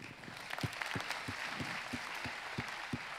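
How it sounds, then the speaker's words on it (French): Applause at a business association's 2018 general assembly for Jean-Luc Chauvin, a dense steady patter of many hands with a few louder claps picked out in a regular rhythm, fairly distant and even in level. "On peut l'applaudir encore."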